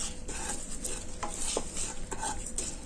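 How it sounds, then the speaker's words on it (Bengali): Spice masala stirred and dry-fried in a pan, with a steady soft sizzle and repeated scraping strokes of a spoon or spatula against the metal, close and quiet, no talking. "মশলাগুলো ভালো করে নাড়াচাড়া করে ভেজে নিয়েছি"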